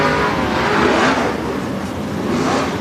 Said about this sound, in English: That is so weird hearing them whine around the racetrack.